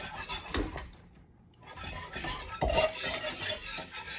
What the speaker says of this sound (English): We're going to whisk it up